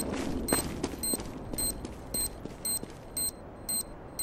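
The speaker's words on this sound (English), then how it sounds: "Defusing the bomb." Repeated short electronic beeps tick at an even pace while a bomb is defused in CS:GO, set over soft rustling and faint game background noise.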